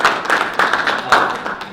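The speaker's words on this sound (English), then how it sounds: "Let's give Steve a round of applause" Audience applause at a small business workshop, a short burst of clapping from a room of people, fairly loud and close, with uneven hand claps rising and falling over under two seconds.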